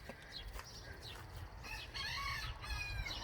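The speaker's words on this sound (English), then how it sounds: "When you hear him crowing, you know he's in there" A rooster crows out in a garden, a fairly faint and slightly distant call with a rising then drawn-out tone, with soft clucking around it and no talking.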